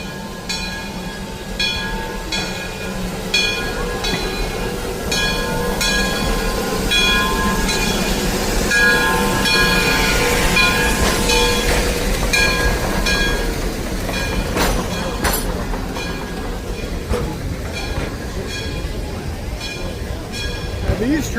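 A steam train rolls steadily along the rails through redwoods at Roaring Camp, with a continuous rumble and rhythmic clicking, while people talk nearby over the noise.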